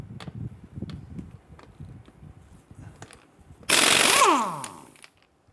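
An impact wrench loosens a locking lug nut on the rear wheel of a 2015-2020 Cadillac Escalade: scattered clicks and taps, then one loud, close, rattling burst that winds down as the tool spins out.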